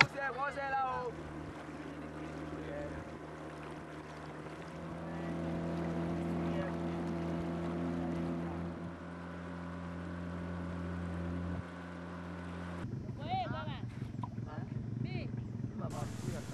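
An outboard motor on a boat on a river idles throttled back, a low steady drone with some tonal hum, while voices talk over it and the sound shifts near the end.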